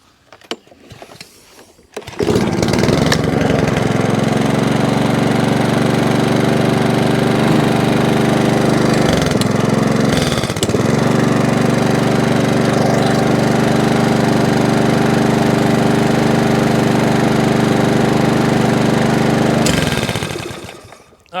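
A Sovereign SV150 lawn mower's small petrol engine starts and runs steadily, loud and close, with a brief dip midway, then cuts off near the end; no talking over it.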